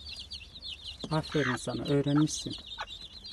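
A mother hen clucks repeatedly in a backyard garden where she is kept with her chicks, soft clucks running throughout while someone talks close by over the middle of it.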